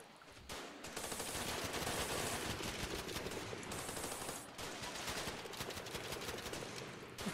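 Continuous rapid automatic gunfire in the game Running With Rifles, dense and unbroken for several seconds, loud and harsh combat audio.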